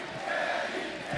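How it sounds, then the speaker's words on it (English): Wrestling arena crowd in Champaign at an AEW match, cheering and roaring for Kenny as a steady loud wash of many voices across the moment. "And the crowd here in Champaign behind Kenny"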